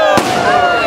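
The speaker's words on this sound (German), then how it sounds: "So, jetzt der erste Schuss zur Bellheimer-Kerwe." A single loud ceremonial shot opens the Bellheimer Kerwe village fair in Germany, a sharp blast followed by a long ringing, crackling tail amid outdoor crowd noise.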